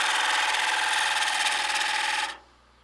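A gouge cuts a spinning wood piece on a lathe, a loud steady broadband shearing hiss with a fast fluttering texture that stops abruptly near the end, leaving quiet motor hum.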